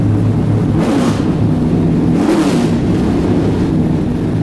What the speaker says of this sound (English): That's an engine there.